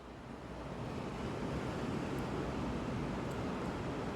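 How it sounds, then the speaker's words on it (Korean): Ocean waves washing onto a beach in winter, a steady soft roar of surf with some wind noise, continuous and fairly quiet with no talking. "파도 소리 들려야지"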